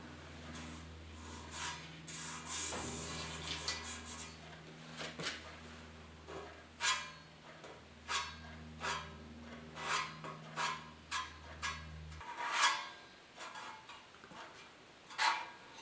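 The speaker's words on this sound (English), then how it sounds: "I'm just sanding everything here with 80 grit" A 1972 Ford air cleaner is hand sanded with 80 grit sandpaper in rapid rasping strokes, at first over a low steady hum and then alone in a rhythmic run of scratchy passes up close.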